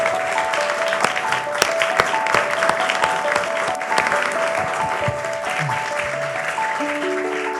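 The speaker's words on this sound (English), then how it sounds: "Thank you, and a huge applause for them, because it was an extraordinary presentation." Applause from an audience at an aerospace conference panel, a steady wash of many hands clapping under sustained electronic tones, with a few sharper claps standing out over seven seconds.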